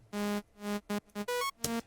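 Synthesizer saw wave with sync warp detuning plays a short bass-arp pattern of six quick buzzy notes whose pitch and tone shift between hits, dry and clear with no voices.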